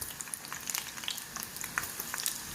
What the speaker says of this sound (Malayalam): നമുക്കിങ്ങനെ ഓരോന്ന് നുള്ളി ഇങ്ങനെ വറുത്ത് കൊടുക്കാം